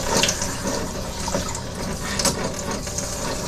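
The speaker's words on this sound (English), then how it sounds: "Rinse until the water runs clear." Running water streams steadily while hair is rinsed during an ayurvedic wash, a close, continuous splashing rush with slight fluctuations as the flow hits the hair.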